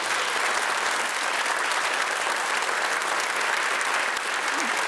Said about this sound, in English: we show our appreciation with this 6-hitting round of applause